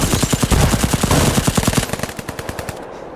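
Dense, rapid machine-gun bursts in a film battle scene, loud and close, with sharp repeated shots that thin out toward the end.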